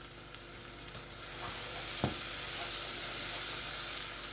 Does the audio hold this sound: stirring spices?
yes